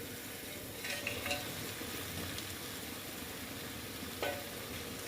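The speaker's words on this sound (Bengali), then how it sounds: "তেল ছেড়ে দিয়েছে এবার আমি মাছগুলো সব দিয়ে দেব" Koi fish frying in hot oil with spiced masala, a steady broadband sizzle throughout with a few brief clinks of stirring, close and fairly loud, no talking.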